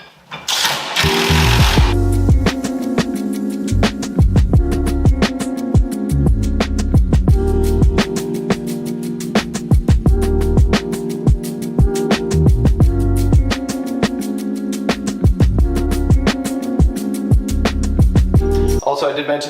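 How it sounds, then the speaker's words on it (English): A cheap cordless drill fitted with a 1/2 inch socket drives screws home in a garage, with loud, repeated whirring bursts of the motor broken by brief pauses and ratcheting chatter. "I like to get them mostly in place and then finish drilling them home."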